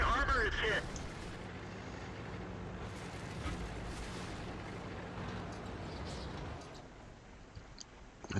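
Shots strike the front of a KV-1 heavy tank in World of Tanks, heavy booming impacts landing at the start and again a few seconds later over a rumbling battlefield background.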